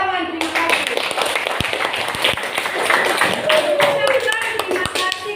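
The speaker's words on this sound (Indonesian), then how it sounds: "Tepuk tangan, terima kasih." A classroom of children claps hands together, with scattered sharp individual claps mixed into a busy, loud room where young voices chatter and call out throughout.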